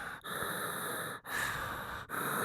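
Eerie breathing-like ambience in Silent Hill 2, heard as a close, hollow, airy breath sound rising and falling in three long drawn-out cycles with short pauses between them, steady and unsettling.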